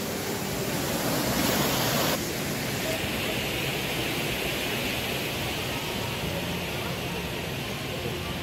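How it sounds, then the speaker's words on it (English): Steady broadband roar of Düden Waterfall near Varsa in Antalya's Kepez district, a constant loud rushing wash of falling water with no pauses, a slightly brighter burst in the first couple of seconds. "So we can call it a historical waterfall too."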